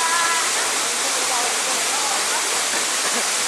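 Loud, constant roar of a waterfall, rushing water filling the whole moment with dense hiss, a faint voice barely showing through.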